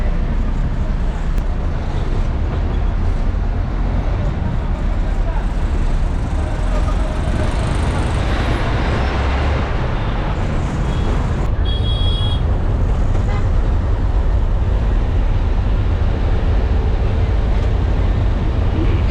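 City bus riding between Alandur Metro and Kilambakkam, a continuous loud engine and road rumble with wind buffeting and rattling, steady throughout with a brief bright squeal near the middle.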